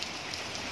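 Rain falls in a steady, soft hiss, patterning on surfaces with no other sounds over the brief moment.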